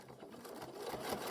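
A domestic sewing machine stitching fine Tana Lawn cotton, a soft, quick whirring run of needle strokes that builds slightly in loudness over a brief moment, heard close and alone.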